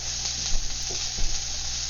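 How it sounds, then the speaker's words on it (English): Onions frying for ketchup prawns, a dense continuous sizzle with two brief stirring scrapes, close and steady, no talking. "So you make sure you stir the onions once in a while."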